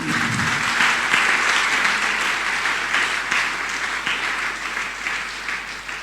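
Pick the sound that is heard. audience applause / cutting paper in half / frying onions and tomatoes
audience applause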